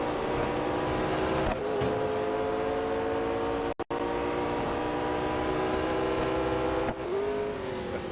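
Racing engines of McLaren 600LT cars in Real Racing 3, a loud sustained multi-layered whine rising and shifting with gear changes, a brief cut near the middle, constant throughout with no talk.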